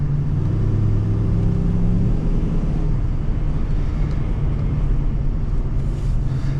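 A 2002 Chevrolet Silverado LS 2500 HD with an automatic transmission accelerating, a steady loud low engine drone with a deep rumble that holds evenly from cab level.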